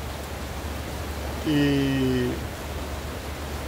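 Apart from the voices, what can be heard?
light rain falling outside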